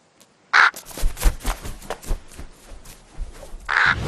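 Crows caw loudly, with two sharp, close calls about three seconds apart and softer rustling and knocking sounds between them.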